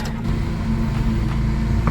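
A high-mileage Toyota Corolla at 258,369 miles idles and creeps forward onto ramps, its engine giving a steady, close, low hum with no talk.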